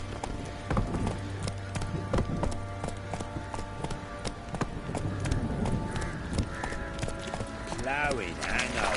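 Geralt's horse Roach galloping in The Witcher 3: Wild Hunt, with a fast, steady clip-clop of hooves close up and other game sounds mixed in.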